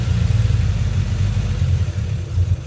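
A boosted Honda Civic EG engine idles high at about 2,500 RPM, a steady, loud, close low rumble that holds continuously throughout with slight pulsing and no talk over it.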